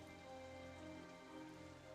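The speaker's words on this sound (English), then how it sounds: "You can hear it raining." Steady rain falls outside, a dense, even patter with no breaks, soft and continuous throughout.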